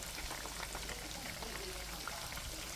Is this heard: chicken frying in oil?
yes